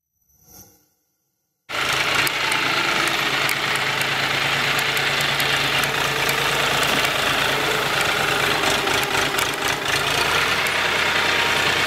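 A Kentavr T-224 mini tractor's engine starts and runs steadily, a loud, close, even rattling idle with a dense knocking texture that continues unbroken for over ten seconds after a brief quiet start.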